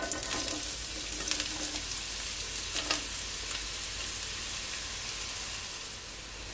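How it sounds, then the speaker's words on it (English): Onions frying in hot oil in a pot give a loud, continuous close hiss, with a few brief crackles and scrapes early on before it settles into an even sizzle. "So to my pot, I'm gonna firstly add my onions."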